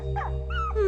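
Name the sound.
dog whimpering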